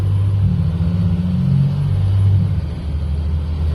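A 2001 GMC C7500 crane truck rolls down the road with a low, steady diesel rumble. The deep drone is heard from the cab and shifts slightly in pitch as the truck pulls along, with no voices.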